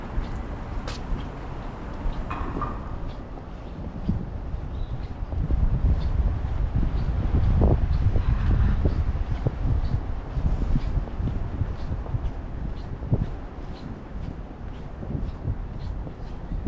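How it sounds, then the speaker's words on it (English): Strong, fierce wind on a city street in Old City Philadelphia near Arch and 3rd streets, a continuous roaring rush with gusts that swell toward the middle, buffeting the microphone, with faint street noise beneath. "the wind is really picking up over there"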